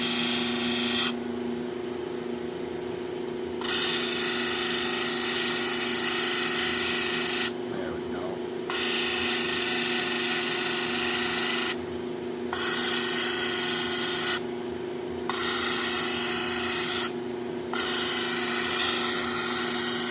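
Stone shaped by hand, a repeated rubbing and rasping grind in long strokes separated by short pauses, loud and close with a steady hum underneath.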